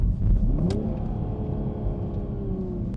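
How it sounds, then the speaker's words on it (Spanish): Toyota GR Supra 3.0 Limited Edition engine and exhaust, a smooth mid-pitched hum that rises in a short rev then settles into a steady cruising drone, with no talk over it. "El ruido que produce el sistema de escape no es demasiado llamativo ni molesto, ni siquiera en los arranques en frío, pero no deja de ser bonito y natural"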